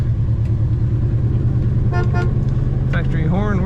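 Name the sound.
factory car horn of 1970 Chevrolet Chevelle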